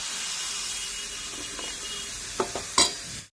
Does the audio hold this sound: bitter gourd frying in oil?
yes